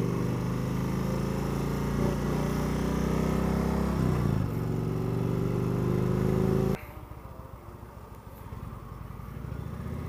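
An Indian Chief Vintage motorcycle engine drones steadily under load while riding, loud and continuous with wind rush, then it drops off sharply to a quieter rumble near the end.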